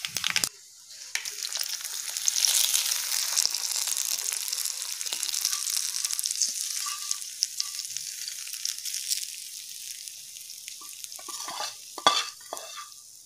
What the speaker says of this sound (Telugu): తర్వాత కరివేపాకు వేసుకొని ఫ్రై చేసుకుందాం